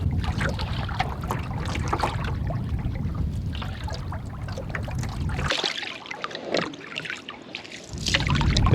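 Canoe paddling on a quiet stretch of the Norfolk Broads, with soft watery dips, drips and trickles from the paddle repeating close by, no talking.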